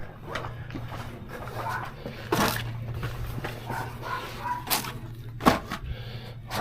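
A puppy barks in a few sharp, scattered yaps over a steady low hum, with faint rustling in between.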